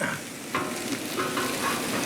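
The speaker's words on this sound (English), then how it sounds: "We're just gonna lay that sizzling on top of that grill." Steady crackling sizzle of pork tenderloin on a hot outdoor grill, close and continuous, with a few brief scraping clicks.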